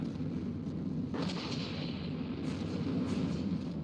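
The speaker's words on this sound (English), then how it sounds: "it is still able to fire all of its guns" Gun turrets on a damaged craft firing in the naval combat game From the Depths: a sharp boom around the first second, then rolling rumbling blasts over a steady low battle din.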